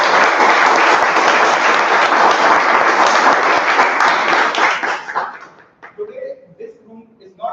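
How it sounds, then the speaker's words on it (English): Loud, dense applause from the audience at a joint Toastmasters club meeting, holding steadily for about five seconds before breaking off into a few scattered claps and faint voices. "So can we also have a huge round of applause for"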